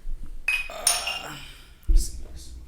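Glasses of Crown Royal whisky clink together in a toast among a few men at a podcast table, two or three bright close chinks spaced apart, with brief voices around them.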